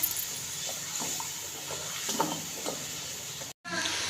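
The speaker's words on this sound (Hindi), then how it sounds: "प्याज हमारे फ्राई हो रहे हैं" Sliced onions frying in oil in a pan for a masala baingan dish, a steady close sizzle with occasional stirring scrapes and light clinks, briefly dropping out near the end before resuming.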